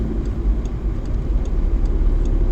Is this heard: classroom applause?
no